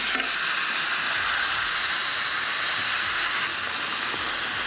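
Steady loud hiss of steam and sizzling juices from a spatchcocked smoked chicken cooking on a Ninja Woodfire grill, continuous and close.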